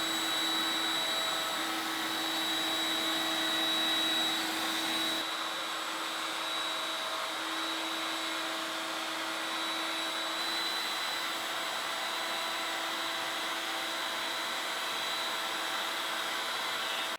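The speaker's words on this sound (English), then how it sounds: "I'm going to round over these edges that make up the perimeter of the top of each leg using a 1/4 inch radius" A router with a 1/4 inch round-over bit cuts along the top edges of wooden table legs, making a steady, loud, whining drone that runs without a break and has a slight change in pitch partway through.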